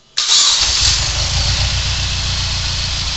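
Mazda 6 MPS engine catching on a single crank, a sudden loud start that settles into a rough, slightly misfiring idle, close by and with no talking.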